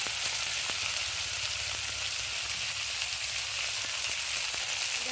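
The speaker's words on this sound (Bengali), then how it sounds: "একটু অল্প করে নুন দিয়ে দিই, নুন দিয়ে ভেজে নিই" Bitter gourd frying in hot oil in a wok gives a steady, close sizzle with a dense hiss and a few faint clicks and pops, heard alone with no talk.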